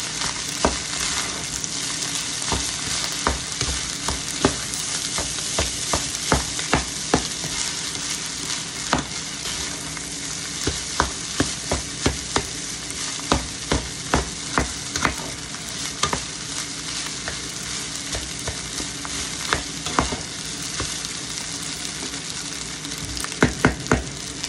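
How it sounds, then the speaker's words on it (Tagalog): Beef tapa seasoned with a little salt is stirred in a frying pan, a continuous close sizzle punctuated by frequent sharp spatula scrapes and clacks against the pan, with no voices. "Saka halo-haloin natin."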